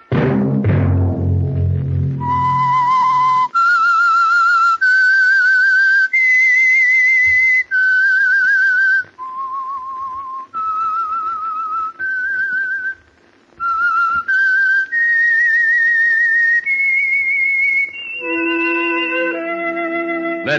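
A whistled theme melody opening The Whistler mystery radio program, a clear solo whistle tracing a slow, eerie tune of sustained notes with brief gaps, after an opening orchestral chord fades out.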